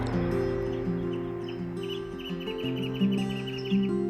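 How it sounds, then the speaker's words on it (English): Birds chirp and tweet in short repeated calls over a steady low rumble of passing traffic near a frozen river, moderately loud and outdoors. "listen to the birds"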